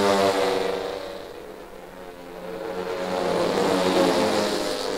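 110cc motorcycles racing in a provincial Córdoba final, engine drone swelling and fading as bikes pass at a distance, a layered whine with shifting pitch and no talk.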